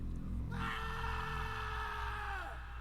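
A long, drawn-out scream sound effect from a spooky video game rises sharply and holds for about two seconds before trailing off, loud over a steady low background hum.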